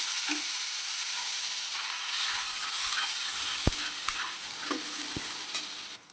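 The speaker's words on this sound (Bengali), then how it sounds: "তেলটা গরম হয়ে গেছে, এবার আমি এর মধ্যে একটা বড় সাইজের পেঁয়াজ দিয়ে দেবো।" A large onion fries in hot oil in a pan, giving a steady, close sizzle with a few sharp clicks and taps of stirring scattered through. Nobody speaks.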